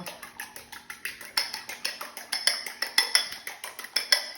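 A fork clicks rhythmically against a bowl or dish, the steady, close metallic taps growing louder partway through, like beating egg for breading chicken, with no voices.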